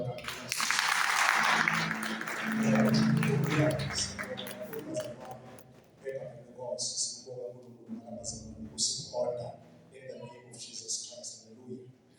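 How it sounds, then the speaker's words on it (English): A church congregation at a Sunday service claps hands in a loud burst for the first few seconds, then the clapping fades and speech and scattered room sounds take over. "Let us clap hands for them."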